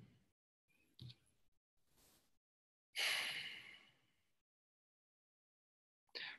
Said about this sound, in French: Donc, prenez une grande respiration.